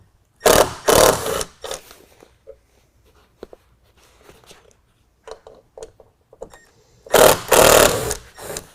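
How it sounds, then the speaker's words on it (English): A power driver with a number 2 square head bit whirs in two short bursts near and loud, backing screws out of a 2x4 during a tonneau cover install on a 2019 Chevy Silverado 1500, with quiet handling noises between. "We're going to unscrew that. Now that's going to take a number 2 square head bit."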